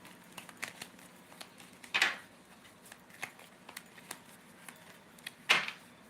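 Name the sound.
shuffling tarot cards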